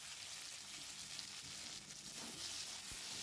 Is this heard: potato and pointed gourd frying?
yes